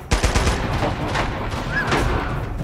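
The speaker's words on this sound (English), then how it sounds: "Oh, now we get an AK." An AK rifle firing in the handheld action game Uncharted Golden Abyss, quick bursts of sharp shots up close at the start, then more scattered fire over a dense combat din.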